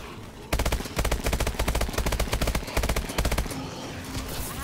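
Rapid automatic gunfire from a video game zombie mode in Advanced Warfare Exo Zombies, a loud sustained burst of evenly spaced shots lasting about three seconds before cutting off into quieter game ambience.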